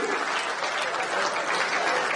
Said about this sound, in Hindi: मन हो तो तालियां वालियां बजा दो